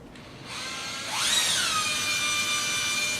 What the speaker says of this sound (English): go ahead and start drilling